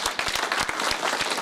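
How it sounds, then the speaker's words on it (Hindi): An audience claps loudly and steadily for about a second and a half at a school reunion gathering, a dense continuous burst of hands with no voices over it. "भरपूर तालियां जी"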